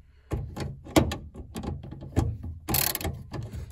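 A ratchet clicks in short bursts as bolts are tightened on the power sliding door of a 2005-10 Honda Odyssey, close and fairly loud, mixed with metallic clunks from the door mechanism.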